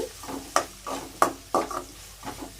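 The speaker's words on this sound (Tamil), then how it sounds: "கொஞ்சமாக உப்பு போட்டுக்கிறதுனால வெங்காயம் வந்து சீக்கிரமாக வதங்கிடும்" Sliced onions sautéing with a pinch of salt in a pan for noodles: a low sizzle broken by sharp scraping stirs of a spoon against the pan, roughly every half second, close and moderately quiet.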